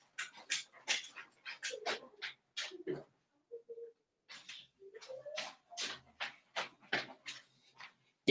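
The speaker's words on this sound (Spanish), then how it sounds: "mi perrito está encerrado en una pieza" A small dog shut in a room gives a run of high, thin whimpers and yips in quick bursts, with a couple of longer whining tones, close and clear against near silence.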